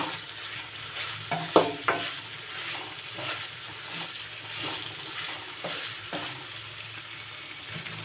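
Turmeric being fried with a soft-cooked tomato masala in a pan, a steady sizzle with occasional stirring scrapes and a couple of sharper clinks early on, close and without talk.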